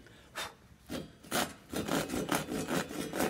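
Hand saw cutting wood for boat chines, a run of rhythmic rasping strokes, sparse at first and then quick and steady, close and fairly loud.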